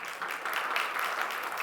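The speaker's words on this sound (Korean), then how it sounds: "박수 한번 해줘" A congregation at a Sunday church service gives a short burst of warm applause, a dense, even patter of many hands heard alone.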